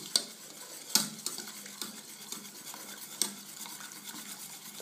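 A chocolate mixture for cornflake clusters being beaten with a utensil in a bowl gives soft, steady scraping and stirring, with sharper clinks against the bowl every second or two, close and fairly quiet.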